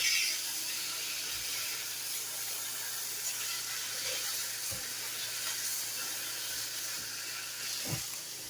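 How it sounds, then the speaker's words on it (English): Pork loin browning in an electric multi-cooker gives a steady, even sizzling hiss throughout, moderately loud, with a few faint clicks and knocks beneath it. "I'm just browning this pork just to give it some flavor"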